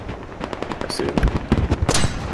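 A volley of sharp gunshots rings out in the military shooter Squad during an armored battle, several close cracking bursts in quick succession with uneven rhythm and faint background noise.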